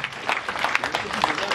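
An audience at a donation ceremony for orphans and widows in Korhogo claps in scattered, uneven bursts, with speech running over the applause throughout.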